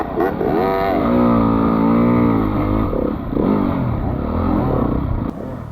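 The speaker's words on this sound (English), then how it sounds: "I hear a bike approaching me fast" An off-road dirt bike in a cross-country hare scramble race in Ontario races past close by, its engine revving loud and rising and falling in pitch over the steady drone of another bike.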